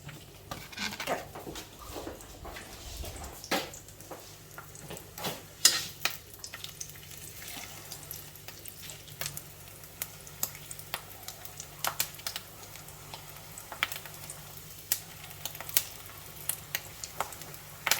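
Bacon frying in a pan for a breakfast, a steady soft crackle and spitting sizzle with scattered sharper pops throughout, fairly quiet and heard on its own without talk.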